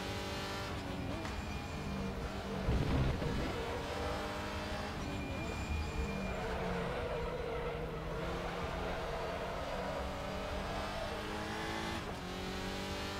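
A WTCR Audi RS3 touring race car in the RaceRoom racing simulator drones through the gears, with an engine surge and tire noise early on, then a steady engine hum under faint background sound.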